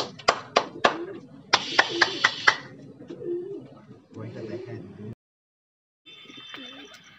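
Madrasi pigeons at a pigeon-flying tournament in West Bengal coo in soft, warbling phrases, mixed with a run of sharp, rhythmic claps early on, then a short pause before a higher tonal call.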